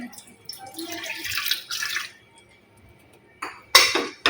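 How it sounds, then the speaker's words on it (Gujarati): Water is poured into a pressure cooker holding a trivet, with splashing bursts and a sharp metallic clatter of the pot near the end, close and moderately loud. "થોડું પાણી એડ કરી દઈશું"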